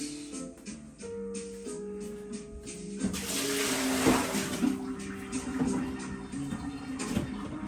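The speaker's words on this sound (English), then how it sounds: "Toss this muddy water out." Muddy rinse water is tossed out from a pot at a home stove while cooking onchoy, a close, rushing splash and drain that swells and then trails off.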